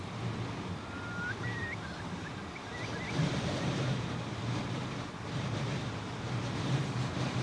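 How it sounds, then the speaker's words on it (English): Steady wind and surf on the Westerschelde in the Netherlands, a constant broad roar of waves and gusts buffeting the microphone throughout, with faint high bird calls early on and no talking. "There's still a lot of wind"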